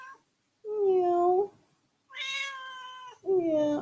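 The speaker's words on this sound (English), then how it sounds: "It's a female ginger cat." A female ginger cat meows three times up close, long loud drawn-out calls with clear pitch, separated by short silences.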